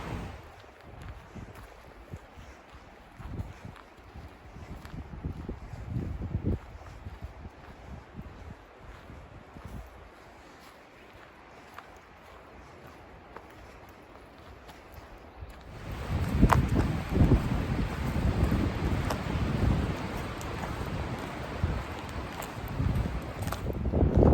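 Gusty wind outdoors in Finland buffets the microphone in low rumbling bursts, growing louder and rougher in the second half.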